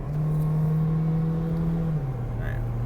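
Steady road noise from inside a moving car, with a low engine drone that shifts pitch as the car turns a corner through traffic, continuous and close.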